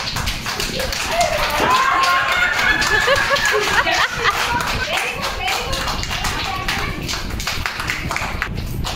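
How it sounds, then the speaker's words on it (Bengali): An audience claps steadily at a casual ramp walk show, with dense overlapping hand claps running throughout under excited chatter and laughter close by. "হাততালি।"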